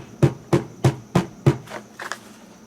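Plastic parts of a Craftsman B210 leaf blower are pushed together, giving five evenly spaced sharp knocks followed by a softer double click, close and without talk.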